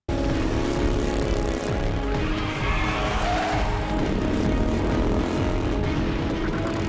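A motorbike chase from the TV series Arrow, with loud, continuous engine roar and racing vehicle noise sustained throughout, suggesting high-speed pursuit.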